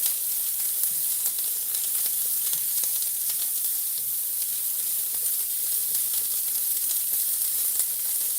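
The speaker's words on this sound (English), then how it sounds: "now I'm going to add green pepper, an onion." Green pepper and onion frying in oil in a pan, a steady, loud, close sizzle that holds evenly throughout with no voices.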